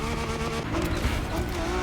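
A Lamborghini engine roars in The Crew Motorfest racing game, a continuous loud, buzzing drone held steady throughout with slight rises in pitch, and no talking over it.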